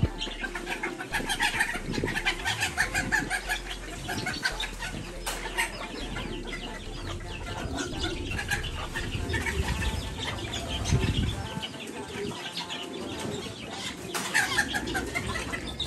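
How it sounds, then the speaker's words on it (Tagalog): Chickens cluck and squawk intermittently nearby, with occasional wing flaps and rustling amid a busy, noisy background. "nalagay ko dito yung mga manok. Huliin ko muna yung mga manok dito."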